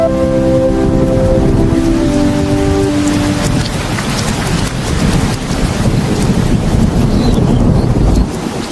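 Heavy rain pours steadily and loudly, dense hiss of drops with a deep rumbling undertone, while a sustained tone fades out early.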